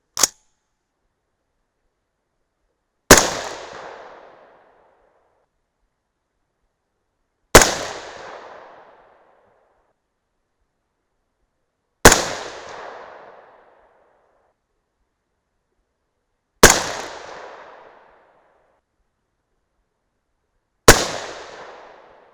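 Six rifle shots from a 6.5 Grendel firing 107gr Sierra Match King loads, each a sharp loud crack with a short decaying echo, spaced roughly four to five seconds apart, with quiet between them.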